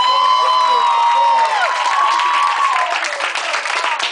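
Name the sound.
audience applause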